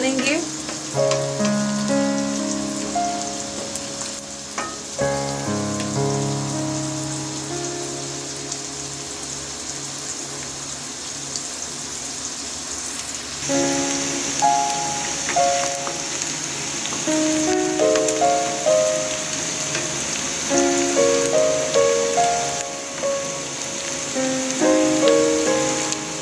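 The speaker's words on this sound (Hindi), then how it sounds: "मीडियम टू लो फ्लेम पे प्याज को जो है हम लाइट ब्राउन कर लेंगे" Onions fry to a light brown over a medium-low flame for a chicken qorma, giving off a steady close sizzle. Tonal background music plays over it throughout, and no one speaks.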